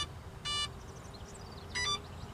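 Two short electronic startup beeps from a car-mounted flywheel setup, each a bright tonal burst about a second apart, over a quiet engine-idle background with no talk.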